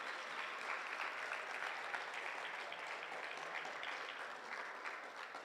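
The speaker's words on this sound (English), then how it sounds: "If we can give them a big round of applause for the time they have." Steady applause from an audience thanking the judges at a FIRST Tech Challenge robotics qualifier, a dense even clapping that fills the whole stretch without a break.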